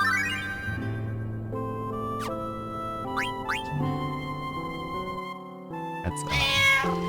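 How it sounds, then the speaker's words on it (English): A cat meows in the video game Final Fantasy IX, a couple of brief rising calls layered over steady, melodic game music. "there's a cat"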